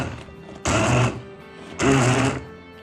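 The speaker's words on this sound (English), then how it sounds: "Just blitzing the seafood stuff now." A blender blitzes seafood scraps and prawn heads in two short loud bursts of grinding whir, each under a second long, with a quieter hum between them and nobody speaking.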